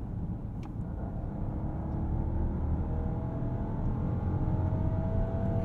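A 2023 Rolls-Royce Phantom climbs a hill under hard acceleration, a steady, muffled low engine rumble with faint whir heard from inside the cabin, continuous and even throughout.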